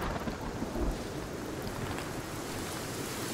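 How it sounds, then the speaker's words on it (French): A thunderstorm in the video game Sons Of The Forest: a continuous dense rumble of rain and low thunder, steady and fairly loud throughout with no talking. "Ah oui, il y a de l'orage."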